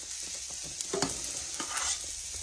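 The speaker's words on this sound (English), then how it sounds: "you don't want to scorch it, so stand here and stir it a little bit" A pot of potatoes and thickening milk on lowered heat is stirred by hand, giving a soft bubbling hiss with a few scraping knocks from the spoon against the pot.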